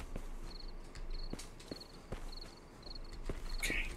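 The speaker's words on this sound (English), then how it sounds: "I hear crickets right now." Crickets chirp in the horror video game Paranormal Cleanup, steady short high-pitched trills repeating at even intervals, faint and distant, with soft thudding footsteps tapping underneath.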